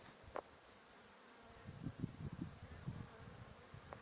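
Faint, low buzzing of honey bees bringing in pollen in short irregular bursts near a hive in early March, with light background hiss.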